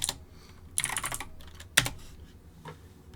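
Keys clatter on a GrandMA3 lighting console keyboard as a label is typed, a few quick bursts of close, crisp clicks separated by short pauses, ending with one sharper tap.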